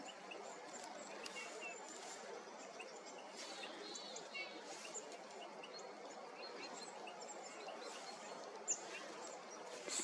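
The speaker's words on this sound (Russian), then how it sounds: "Синица." A tit singing outdoors on a mild, overcast morning, repeated chirping phrases over a dense background of other birdsong and faint ambient noise.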